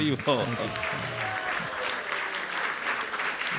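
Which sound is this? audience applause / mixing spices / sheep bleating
audience applause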